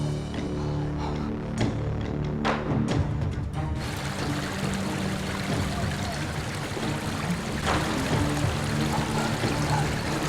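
River water flows and pours steadily in a broad, continuous wash, fairly close and loud, with some louder broadband rushing after the opening seconds and no voices over it.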